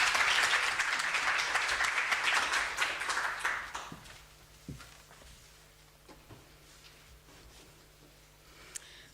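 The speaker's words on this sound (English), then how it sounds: "How about a round of applause for Prof?" An audience at a university research and innovation week grand opening applauds warmly for about four seconds. The clapping then fades out into a quiet room with a few scattered footsteps and knocks.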